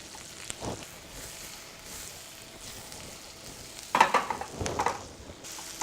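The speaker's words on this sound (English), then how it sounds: "So I've got the onions in there, right, and I've got some sour cream here. I want this just kind of cooked down a little bit." Onions cook down in a pan for pierogies, giving a soft, low sizzle that grows into a burst of stirring and scraping near the end. No one speaks.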